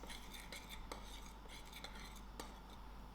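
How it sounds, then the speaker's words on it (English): Flour, black pepper, baking powder and salt being mixed in a bowl for dumplings, a utensil clinking and scraping against the bowl in quick strokes, quiet and close over a steady background hum. "black pepper, my baking powder, and my salt. Give this all a nice mix."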